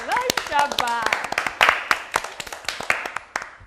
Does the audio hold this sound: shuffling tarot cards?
no